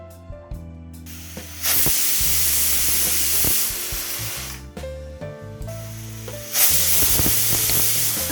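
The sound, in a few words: pressure cooker whistle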